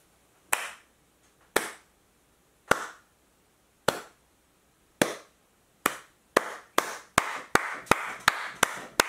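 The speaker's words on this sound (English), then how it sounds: "you guys are all supposed to clap with me" Single pairs of hands clap sharply and alone, first at slow, uneven intervals and then in a quicker, steadier run of claps toward the end, close and crisp with no talking.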